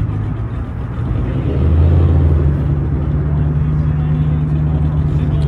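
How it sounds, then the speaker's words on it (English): A Toyota Supra engine at a car meet holds a loud, steady low drone that swells slightly early on, a sustained close rumble with no break in it. "Should we rev it in these people's ears?"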